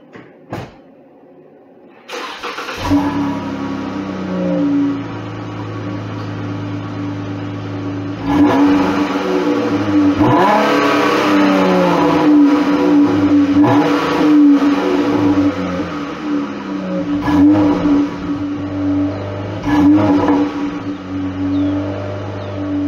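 A 2015 Chrysler 300C engine hums steadily and rises in pitch as it accelerates, with rolling road noise building and staying loud throughout, no voices.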